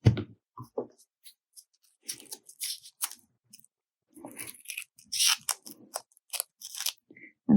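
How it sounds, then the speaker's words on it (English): Scissors cutting paper flower petals for a Valentine's rose, a sparse series of close snips and paper rustles separated by silences, some handling noise, no talk. "I'm going to cut these into sets of 2 so it's easier for me to cut them"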